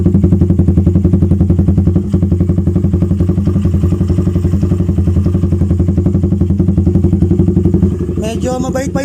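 A motorcycle with an Austin Racing canister exhaust and resonator idles low, its loud, steady putter continuing close up with a brief voice near the end.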